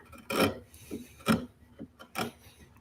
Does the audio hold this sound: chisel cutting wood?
yes